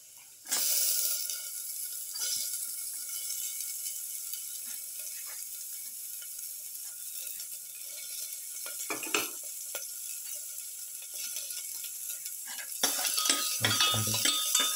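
Shallot sautéing in a pan for a pepper shrimp carrot bowl, a soft continuous sizzle after an opening hiss, with faint utensil clinks and a louder stirring clatter near the end.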